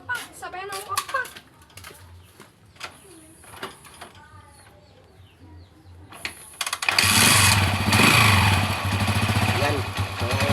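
A small engine with a faulty field coil starts up after a few tries and keeps running, a loud steady broadband roar with a low throb for the last few seconds, following quieter knocks and a brief voice.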